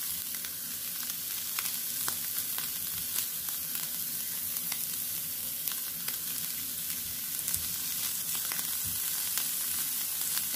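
Meat waffle batter for a carnivore chaffle sizzles and crackles steadily in a hot pan, a close, even frying hiss with small pops throughout and no talking.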